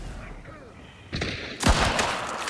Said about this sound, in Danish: Et skud, man!